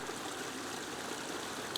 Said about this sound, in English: Flowing water is a peaceful form of white noise